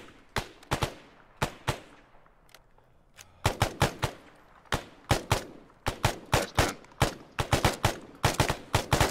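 Repeated bursts of machine gun fire from a video game, rapid sharp volleys separated by short pauses, then denser overlapping strings of shots, loud and close with no talk.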